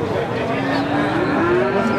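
A Limousin cow lets out a long, loud, low moo, close by and drawn out, over a busy cattle market background with some chatter.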